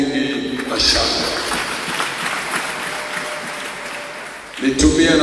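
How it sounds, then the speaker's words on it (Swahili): Church congregation at a Sunday service clapping and cheering together in a sustained, dense wave of applause that fills the room, then fades as a voice returns near the end. "Tumrudishie tena makofi mengi na shangwe."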